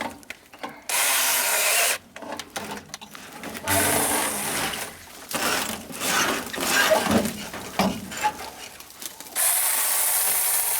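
A mini cordless 21V battery chainsaw with a 6-inch bar cuts through wood in several bursts of buzzing motor whine, broken by short pauses where the chain stops or sticks, close and fairly loud.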